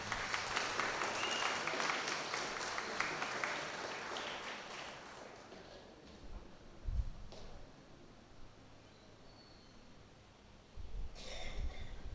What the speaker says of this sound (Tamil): எல்லாம் கொஞ்சம் கைத்தட்டுவோம்